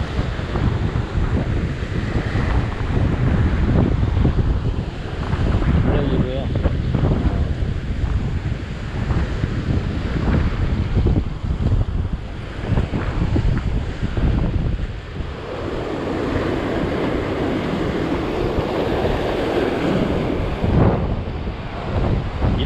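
Rough sea with heavy waves on a windy day during sea fishing, surf crashing and rumbling continuously up close with strong wind buffeting the microphone throughout.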